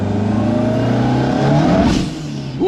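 A Ford Sierra Cosworth engine revs loudly and close up, a steady rising drone that swells then cuts back briefly before picking up again at the end.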